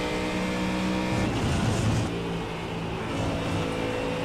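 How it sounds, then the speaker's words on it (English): Mustang GT3 race car at Silverstone heard from onboard, a loud continuous engine roar that rises and falls through gear changes and revving, with no talking. "Great noise, lovely sights and sounds on board the Mustang"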